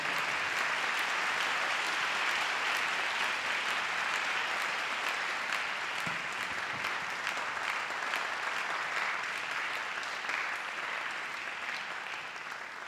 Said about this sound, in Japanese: 宮城さんに大きな拍手を。